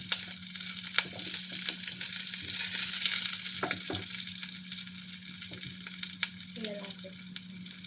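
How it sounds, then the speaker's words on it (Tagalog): Green chili frying in a pan for an Indian paneer dish: a steady sizzle runs throughout, with occasional scrapes and stirring knocks of a utensil against the pan. "Hayaan na natin siyang maluto yung ating green chili."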